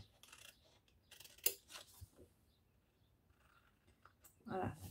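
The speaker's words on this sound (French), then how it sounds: "Et là, je coupe tout bien droit." Scissors snip through a milk carton in quiet, close cuts, with sharp isolated snips early on and a louder crunching cut at the end, amid faint soft handling noise.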